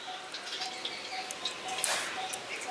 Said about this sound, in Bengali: যাতে এর মধ্যে যে জলটা আছে সেটা আস্তে আস্তে পড়ে যায়